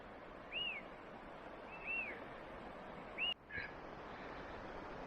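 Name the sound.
birds singing on a hiking trail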